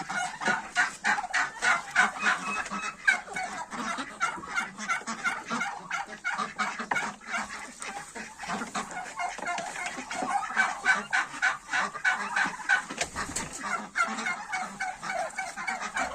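A flock of turkeys gobbles and clucks continuously, rapid rattling calls overlapping one another, with other fowl mixed in nearby on a farmyard.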